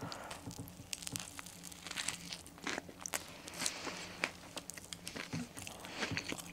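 Close crisp crunches and crinkles come from biting and chewing a Burger King Kings Crunchy Pepper Chicken burger, in irregular bursts with wrapper rustle and no talk.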